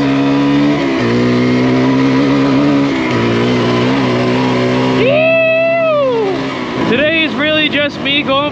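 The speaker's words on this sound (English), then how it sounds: "Just me going for a cruise and just riding the dirt bike, man." Dirt bike revving while riding along dirt roads on a hot day, its engine droning loud and close with rising and falling pitch, then several quick throttle blips in the last seconds.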